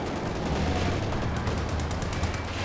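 Battlefield gunfire and shell impacts in the video game Company of Heroes 2 as anti-tank rounds strike a Panzer IV, a dense stretch of sharp cracks and booms over a low rumble, fairly loud.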